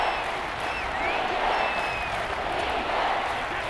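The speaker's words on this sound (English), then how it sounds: "The crowd here in the Dome making things difficult" Steady crowd roar filling a domed football stadium in the Madden 23 video game, a continuous dense wash of many voices at a constant level with a few faint whistles rising over it.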